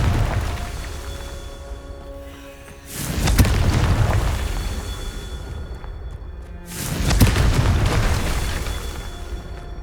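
Two booming blasts of the Confringo fire spell in the video game Hogwarts Legacy, each a loud rumbling burst that fades into a roaring tail, a few seconds apart with no voices.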